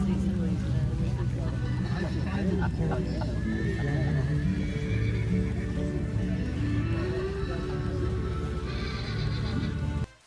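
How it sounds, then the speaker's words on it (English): Horses at the start of a 160 km endurance ride whinny loudly and repeatedly over continuous clip-clopping hooves, while riders talk nearby throughout. "We rode out with Stella, who's just on our right in this clip, and Romeo was super happy to go along with her"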